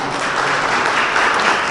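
An audience at a Korean diary family-artwork exhibition and declaration ceremony claps steadily and loudly, a dense and continuous wash of many hands throughout.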